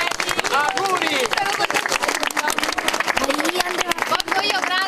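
An audience claps for children at a civic museum inauguration in Joppolo, a dense run of hand claps mixed with cheerful voices and chatter from the crowd.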